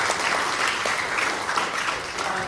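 Applause at a school science week assembly, a dense, loud burst of clapping from a hall full of pupils and staff, holding steady throughout.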